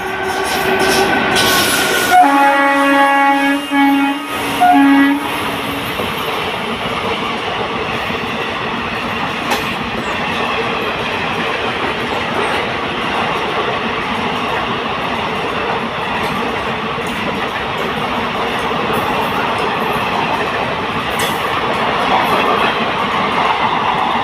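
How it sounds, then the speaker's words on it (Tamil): Ernad Express train passing Punkunnam railway station in Kerala: a horn blast early on over loud, continuous rumbling and clatter of carriages rolling close by for the whole stretch. "Train number 16606 Thiruvananthapuram Mangalapuram ஏரநாடு express."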